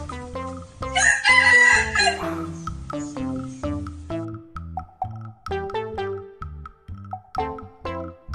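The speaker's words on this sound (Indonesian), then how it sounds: "Ini adalah ayam." A rooster crows loudly and close by, one drawn-out call followed by clucking, set over a steady background of melodic music.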